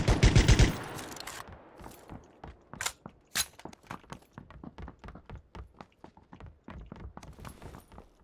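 Game gunfire from a first-person shooter: a loud opening burst of rapid shots, then a steady run of sharp single and double cracks spread over several seconds at a close, moderate level, with no talk.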